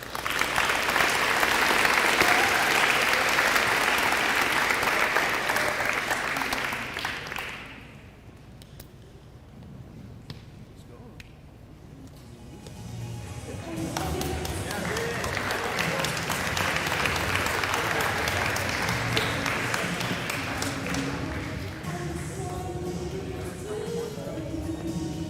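An audience at a spring sports awards ceremony claps in a full, sustained burst, dies down to a quiet lull for a few seconds, then swells into a second long round of steady applause.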